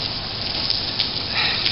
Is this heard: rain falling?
yes